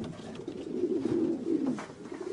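Rock doves, the wild ancestor of domestic pigeons, cooing in a steady low murmur that swells and fades, close and continuous with faint ambient noise behind and no talking.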